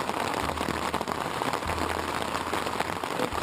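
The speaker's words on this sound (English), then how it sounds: "This is the kind of rain that I've had for the past 3 days." Rain pours down steadily in Belgium, a loud constant hiss of drops drumming on a surface, with a low hum beneath.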